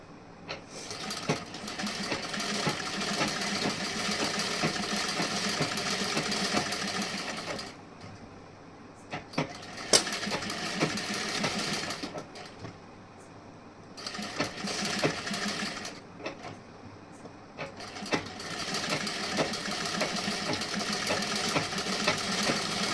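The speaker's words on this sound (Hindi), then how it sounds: "यहाँ पे मैं स्टिचिंग करके दिखाऊंगी इस साइड में।" A sewing machine stitches a princess-cut blouse in fast, even bursts of needle chatter, running steadily for several seconds, pausing briefly, then starting again, close and loud in a quiet room.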